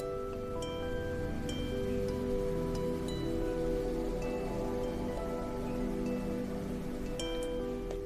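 Gentle rain falls in a garden as a steady, even hiss of drops behind a soft sustained musical drone. The level stays constant throughout and no voice is heard.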